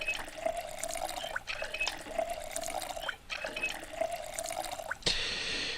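Steady water running from a tap in Project Zomboid, a continuous close splashing stream that carries on for several seconds with a few faint knocks before it cuts off into a brighter hiss.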